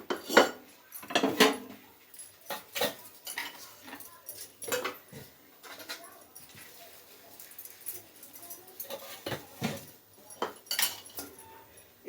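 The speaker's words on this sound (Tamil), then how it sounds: "இப்போ இது வந்து நல்லா கிளறி விட்டுருங்க" Utensil scraping and clinking against a pan while eggplant gotsu, a Chidambaram-style curry, is stirred, giving irregular close metallic taps and scrapes with quiet gaps between them.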